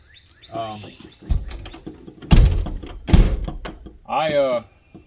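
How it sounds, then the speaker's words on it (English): Two heavy door thuds in the middle, close and loud, between bursts of a person speaking. "Close that door."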